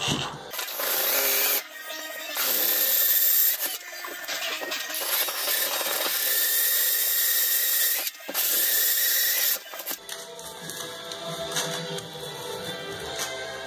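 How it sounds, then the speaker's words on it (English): A Milwaukee M18 cordless drill whirs and grinds in bursts while drilling out a piece of pipe, stopping and restarting several times, loud and close, with a rattling mechanical edge. "the Milwaukee M18 1-key drill, which is a Bluetooth enabled drill"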